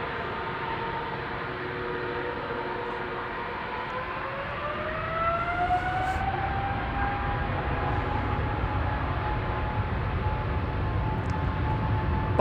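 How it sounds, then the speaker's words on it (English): A 21-year-old KLM Boeing 777-200 departs Amsterdam Schiphol for Houston, a continuous jet roar with rising, bending engine whines that grow louder partway through and stay close. "And this is KLM flight 661 to Houston in Texas. 777-200 PHBQF, 21 years old,"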